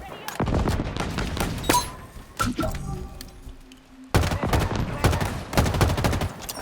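Assault rifle gunfire in the video game Halo Infinite comes in loud rapid bursts with brief pauses, mixed with thuds and impact hits.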